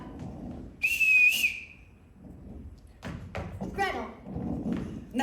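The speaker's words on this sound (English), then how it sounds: "Everybody in this house answers to a whistle." A shrill whistle blown in a stage production of The Sound of Music in a theatre, one piercing burst rising and held briefly, then bumps and people talking on stage.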